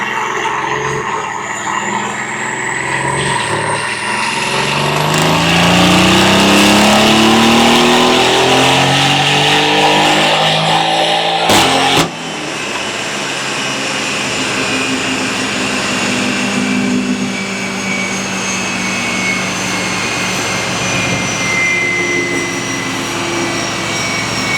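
An 881bhp Lamborghini Urus engine runs flat out on a dyno, roaring loudly as revs climb in a rising sweep, then dropping abruptly after a brief cut before droning on at high volume.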